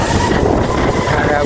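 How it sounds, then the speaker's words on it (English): Strong wind after Hurricane Helene rushes steadily through trees, a loud, continuous roar with no clear gaps. "It's just rattling these trees."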